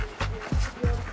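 A friendly dog met while travelling in the far north pants and lets out short whimpers up close as it is petted, three quick yelping rises over steady breathing.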